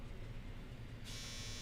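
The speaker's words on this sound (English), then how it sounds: "my dryer's so loud." A clothes dryer runs with a steady, loud droning hum and a constant low rumble, with no speech over it.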